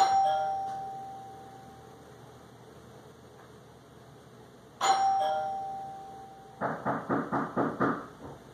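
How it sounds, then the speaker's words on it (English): A home doorbell rings near and clearly: two single chimes several seconds apart, then a quick run of about seven rapid rings, over a low steady room hum with no talking. "I'm going to sneak around now and I'll ring the doorbell this time."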